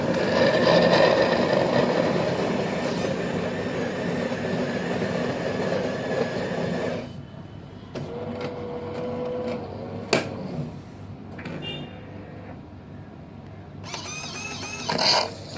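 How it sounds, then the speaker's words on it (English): A Kalerm Quarza coffee machine dispenses hot milk for a latte with a loud, steady mechanical pumping hum for about seven seconds. It then drops to a quieter hiss broken by scattered clicks and brief whirs. "So first the machine will dispense hot milk."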